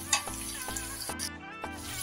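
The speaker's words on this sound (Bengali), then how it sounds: "দিয়ে হাই ফ্লেমে জাস্ট একটু 1-2 মিনিট ভাজা ভাজা করে নেব।" Chili chicken fries on high flame, a close steady sizzle broken by a few rhythmic scraping stirs across about two seconds.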